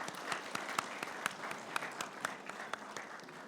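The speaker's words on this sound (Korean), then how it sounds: "영광의 박수 올려드리겠습니다." A church congregation applauds at a Sunday worship service after a choir's hymn, steady dense clapping with a few sharper claps standing out throughout.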